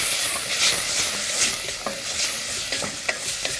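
Chopped onion frying in a pot on the stove, stirred as it cooks: a steady loud sizzle and hiss with scraping stir strokes throughout, no voices.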